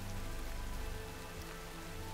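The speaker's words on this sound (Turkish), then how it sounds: "Yağmur bu yasalara uygun olarak yağıyor." Steady rain falls onto a surface, a dense, even hiss of drops filling the whole stretch with no pauses and no voices.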